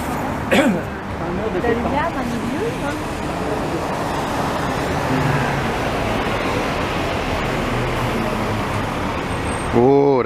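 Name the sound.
city bus passing in street traffic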